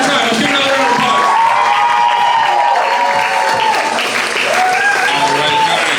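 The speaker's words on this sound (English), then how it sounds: "Let's give another round of applause." A comedy show audience breaks into loud, continuous applause with cheers and whoops, the crowd noise staying full and close from start to finish.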